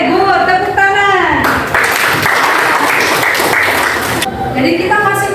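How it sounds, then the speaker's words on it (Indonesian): A class of students claps together in a burst of applause lasting a few seconds, loud and close, with voices speaking over the start and end. "Tepuk tangan."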